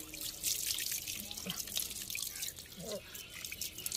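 Water runs from a tap in a steady splashing hiss while a puppy is bathed, with a few drips and a person talking over it.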